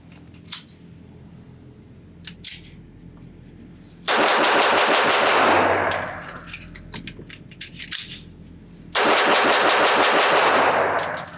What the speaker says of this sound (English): So here we go, the quick magazine change test, and just see how fast I can shoot it.